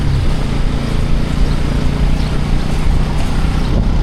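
Motorcycle engine during a ride in India, a loud, steady droning rumble mixed with wind buffeting, continuous and close throughout with no pauses.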